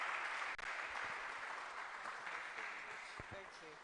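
Audience applause as an honourable member of parliament for Ketu South walks to the stage at a Christian gathering in Ghana, a steady, fairly faint wash of clapping with a few voices mixed in throughout.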